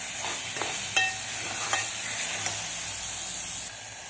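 Masala spices frying in a pan, a steady bright hiss of sizzling oil with a few soft clinks and stirring scrapes, close and alone without talk.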